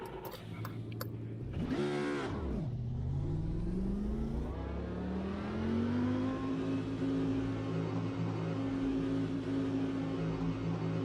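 A Lamborghini Super Trofeo race car engine in a racing video game at Interlagos, which is loud and close. The revs climb in smooth sweeps through the gears, then the engine holds a steady high-pitched drone. No one speaks.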